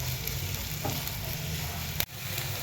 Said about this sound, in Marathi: तेल टाकूया कांदा त्याला चांगलं परतून घेणं